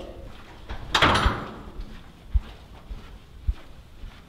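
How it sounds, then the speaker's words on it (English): A door is shut with one sharp bang, followed by a few soft, low thumps nearby. No one speaks. "He closed the door."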